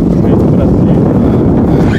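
Steady, heavy wind roaring and buffeting the microphone outdoors beside a street while fishing, a constant broadband rush with no pauses.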